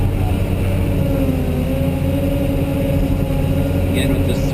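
Cat 988H wheel loader digging into a pile in first gear, its diesel engine droning steadily and loud with a constant low hum throughout.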